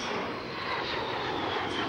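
Lockheed T-33 jet trainer at an air show performing a full aileron roll, its engine a steady, loud, broadband roar with no breaks for two seconds.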